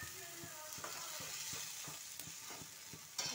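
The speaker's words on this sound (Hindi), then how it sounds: "और ये छौंक हो गया हमारा लाल, तो हम इसमें डाल देंगे टमाटर" Ground tomatoes fry in a red spice tempering, giving a steady, quiet sizzle with faint rhythmic ticks of stirring, and no voices.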